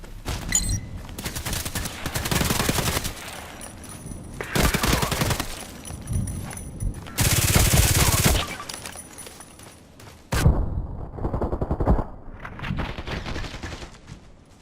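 SA58 rifle fire in the video game Contract Wars, with repeated loud bursts of rapid shots separated by short pauses and a sharp crack near the end.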